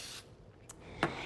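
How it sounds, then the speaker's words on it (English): Cooking spray hisses onto a 9- or 10-inch springform pan for a coffee cheesecake crust: a brief bright spray at the start, then two more short quick bursts a moment apart, fairly faint in a quiet kitchen. "Give it a spray."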